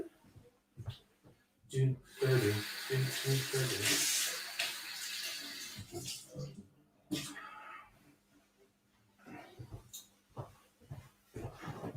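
A kitchen tap runs in a strong burst as a bar jigger is rinsed after measuring milk, the water splashing for several seconds between clinks and handling noises, with a person talking before and after.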